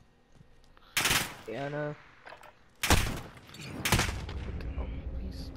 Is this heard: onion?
no